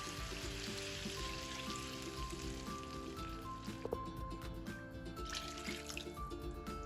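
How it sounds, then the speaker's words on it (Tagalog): Water poured into a cooking pot while a meal is prepared, a steady faint trickle and splash running continuously with a few small drips. "Dagdagan pa natin ng tubig."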